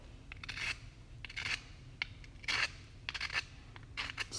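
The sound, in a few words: scraping a marble rock sample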